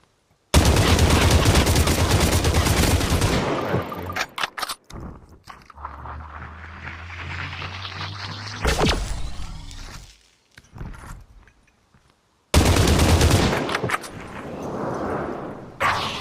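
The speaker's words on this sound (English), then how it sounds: "shots come flying in from cemetery. You're on me shooting at me like a madman" Bursts of rapid automatic gunfire in the battle-royale VR game Population: One, loud and sustained for several seconds, then quieter movement and scattered sounds before another long, heavy volley of shots.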